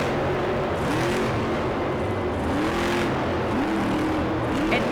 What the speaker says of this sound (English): Jim's truck sounds a little bit different. A little bit different motor for him this year.